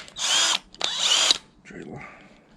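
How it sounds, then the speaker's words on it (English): A power drill with a tiny bit whirs in two short high-pitched bursts close by, drilling holes to mount a spoiler on a Toyota MR2, followed by a softer rattling sound as it slows. "I need my drill, need a drill bit, and need to get to drilling"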